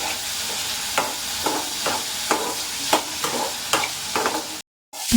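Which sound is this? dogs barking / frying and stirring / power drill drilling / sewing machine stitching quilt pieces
frying and stirring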